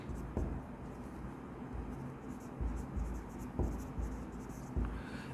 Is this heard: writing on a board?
yes